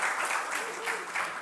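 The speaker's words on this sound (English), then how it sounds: "I think I deserve a big round of applause for that." Audience applause following the last speaker of the day at a Hizmet Movement talk, a steady wash of clapping from a seated crowd that holds fairly even for its short length, with no voices over it.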